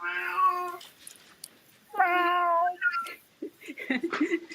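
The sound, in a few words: cat meowing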